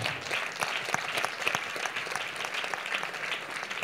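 A church congregation claps in steady, sustained applause, a dense patter of many hands throughout, moderately loud with no clear speech.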